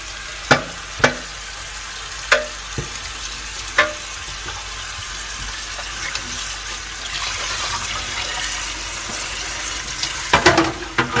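Loud, steady sizzling of pork belly skin searing in a hot pan, with a few sharp clicks and scrapes now and then.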